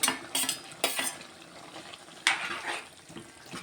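Two large tomatoes dropped into a frying pan for potato chicken curry, bursts of sizzling and stirring scrapes with spoon clinks, loud at first, then quieter, then another surge, close by.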